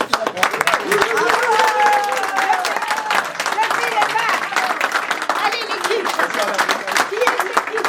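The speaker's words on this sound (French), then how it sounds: "je voudrais qu'on applaudisse encore plus l'équipe." Enthusiastic audience applause for the team at a radio station's 30th anniversary celebration, loud sustained clapping filling the room with cheering voices and talk over it.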